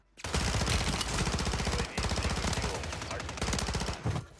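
Dense automatic gunfire from an SMG in Warzone 3 on Rebirth Island, loud and nearly continuous rapid bursts with one brief break, no talking.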